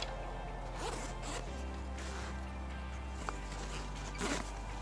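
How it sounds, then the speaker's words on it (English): Zipper being drawn closed on a compartment of a black 3-day tactical backpack with MOLLE webbing, several short close rasping pulls over a steady low background hum. "We'll zip that one up"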